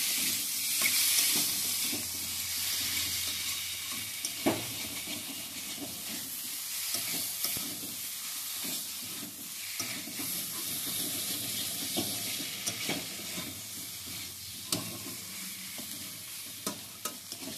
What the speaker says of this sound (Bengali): এবার মশলা আর আলু সব একসঙ্গে আর একবার আমি ভালো করে কষে নিচ্ছি